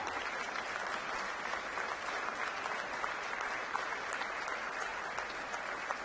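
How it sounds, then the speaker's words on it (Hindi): An audience at a public community event in Delhi applauds continuously, a dense, even wash of many clapping hands heard at a distance with no voices over it. "ताली थोड़ी धीरे नहीं है?"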